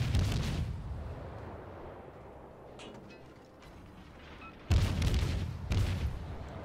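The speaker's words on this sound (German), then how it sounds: "Die wird natürlich mit HE beschossen." Warship guns firing HE shells in World of Warships, a heavy booming salvo at the start, a quieter mechanical stretch, then two more loud deep blasts close together.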